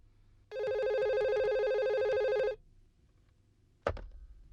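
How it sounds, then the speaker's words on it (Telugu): A telephone bell rings loudly and steadily for about two seconds, then stops. After a short quiet gap comes a sharp clatter, like a handset being picked up. "హలో మేడం మీకు ఫోన్."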